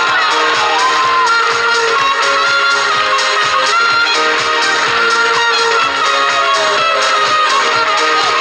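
A large audience at a youth comedy team contest cheers, whoops and claps continuously as the last team takes the stage, a dense, loud crowd roar that holds steady throughout.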